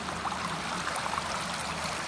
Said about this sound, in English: this is a shale bottom creek, and we've got little waterfalls along the way.